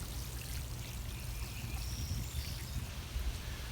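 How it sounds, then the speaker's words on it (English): Water pouring steadily from a watering can onto young eggplant seedlings in a mulched vegetable garden bed, a continuous close splashing trickle with no talking. "Now we'll water thoroughly."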